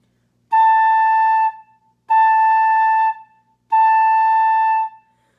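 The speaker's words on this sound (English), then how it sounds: "the tone right now that I'm playing with sounds very whole, very full, and very rich." Three sustained flute notes on the same pitch, each about a second long with short gaps, played close and fairly loud with a full, rich, clear tone and no talking.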